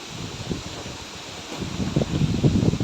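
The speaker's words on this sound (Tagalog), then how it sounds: "naka-experience tayo ngayon ng malakas na hangin dito" Gusty wind rushing and buffeting the microphone, growing louder toward the end, with a rustling, blustery texture and no voices.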